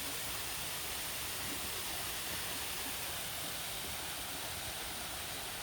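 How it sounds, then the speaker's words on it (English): Waterfall beside a big lake, a steady, dense rush of falling water that holds constant and unbroken throughout. "I'm over by the waterfall."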